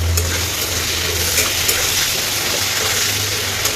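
Potato pieces fry in a pan with salt and turmeric, a loud, steady close-up sizzle and hiss that runs without a break and has no voices over it.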